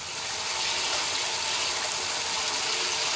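Water running steadily from a hose through a water meter while filling for bee feed syrup, a constant close rushing hiss with no breaks.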